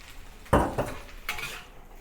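Noodles, beef, green onions and chives tossed in a wok make a close metallic scrape and clatter, with a few quick knocks of a utensil against the pan in short bursts.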